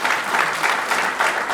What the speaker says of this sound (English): So let's clap this for Professor Chizonga.